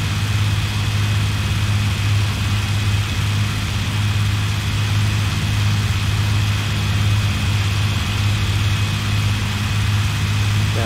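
A Hawker Hurricane aircraft engine throttled back in the IL-2 flight sim, giving a steady, loud, low droning hum with a constant tone and no change across about eleven seconds, heard alone.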